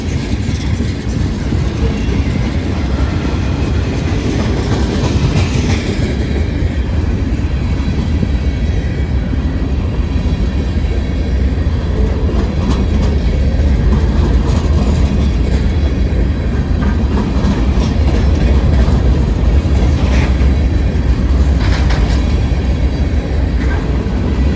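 A freight train with a distributed power unit rolls past up close during a snow emergency, a loud, unbroken rumble and wheel roar holding steady for the whole stretch without letup.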